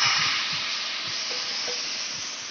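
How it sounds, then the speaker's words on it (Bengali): Hilsa fish sizzles in hot oil in a pan, a steady bright hiss with a few soft pops and bubbling crackles, close and continuous. "এখন মাছটা আমি তেলের উপরে ছেড়ে দিলাম।"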